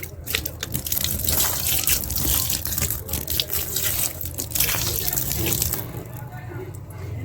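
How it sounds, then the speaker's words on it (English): Water is sprinkled by hand onto chicken feed being readied for fermenting, giving a steady wet pattering and trickling that runs for several seconds, with a voice faintly in the background. "Then you sprinkle water on it."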